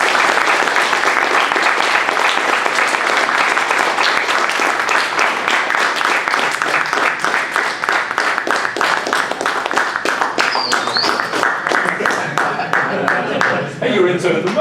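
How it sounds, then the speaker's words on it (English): An audience applauds at a software defined radio meetup talk in the Bay Area: dense, sustained clapping close by that slowly thins out toward the end, with a few voices mixed in. "what about a round of applause for some"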